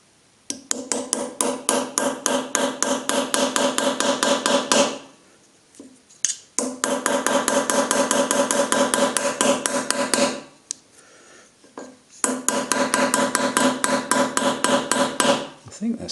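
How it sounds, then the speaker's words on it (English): A hammer drives a chisel against damaged metal screw heads on a steam press, producing three long bursts of fast, sharp, ringing close-up metallic strikes separated by short pauses. "Not a lot there to chisel."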